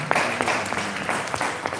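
A large audience at a university event applauds to welcome a World Bank regional vice president, steady dense clapping sustained and close throughout.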